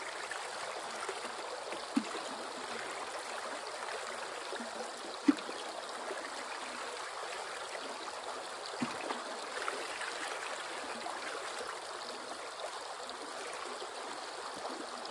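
Water running steadily over a gold-prospecting sluice box with a riffled capture mat, a continuous mid-level rushing and trickling wash with a few small splashy ticks, no voices.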